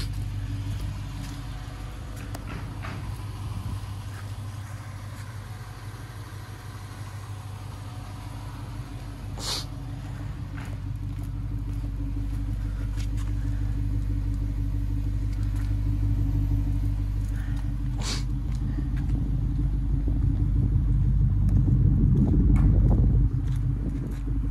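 A third-generation Toyota 4Runner LS running in a driveway, a steady low rumble that grows slightly louder toward the end, with a few faint clicks above it.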